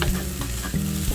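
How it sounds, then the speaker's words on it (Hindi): Spice masala sizzles and is stirred into moong dal in a hot pan, a short, loud, close burst of frying with scraping stirs. "अब मसाला डाल दिया दाल में"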